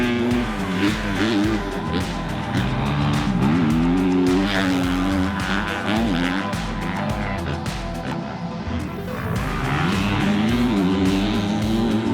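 Kawasaki KX250 race dirt bike at Daytona, its two-stroke engine whining and revving up and down through repeated throttle bursts and gear changes, loud and close throughout.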